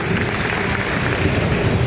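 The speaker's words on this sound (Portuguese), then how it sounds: "Uma salva de palmas aqui para esse pessoal que veio lá da Califórnia" Audience applause at a Campus Party talk in Recife, a dense, even burst of many hands clapping at close range for a couple of seconds.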